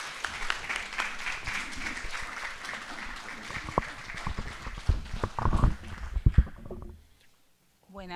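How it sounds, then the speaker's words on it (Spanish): An audience at an evening talk on Afro-Peruvian zapateo applauds, with clapping spread across the room that swells to a few louder bursts and then fades to near silence. "quiero que recibamos con fuertes aplausos"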